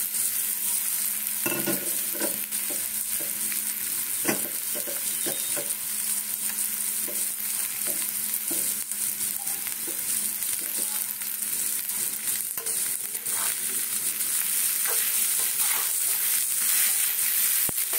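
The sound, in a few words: flattened rice stirred and frying in pan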